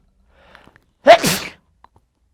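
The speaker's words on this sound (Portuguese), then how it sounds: "Eu vou ter que espirrar." A single loud human sneeze up close, a sharp intake-free burst with a short trailing exhale, in an otherwise quiet room with faint clicks around it.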